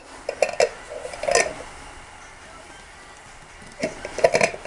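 A lid goes onto a jar of sweet almond oil, giving a few close glassy clinks and scrapes at the start and again near the end, with quiet pauses in between.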